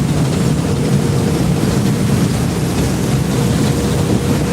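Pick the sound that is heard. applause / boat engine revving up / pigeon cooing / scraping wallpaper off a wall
boat engine revving up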